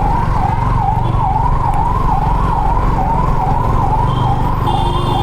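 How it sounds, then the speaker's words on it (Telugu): An ambulance siren wails loud and close on a road, its rising and falling tone steady throughout, with vehicle rumble underneath. "అంబులెన్స్ వస్తుంది జరా సైడ్"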